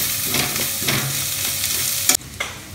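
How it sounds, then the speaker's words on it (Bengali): Vegetables stir-frying for chow mein in a hot pan, a loud continuous sizzle with rhythmic scraping strokes of a spatula, ending in a sharp clank and a quieter hiss. "তো সবজিগুলো একদম ভাজা ভাজা হয়ে গেছে"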